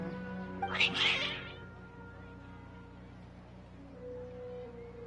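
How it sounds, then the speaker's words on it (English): Video game cats in Genshin Impact let out one brief agitated meow or yowl near the start, and low ambient game music and hum carry on quietly afterward. "Your cats seem pretty worked up"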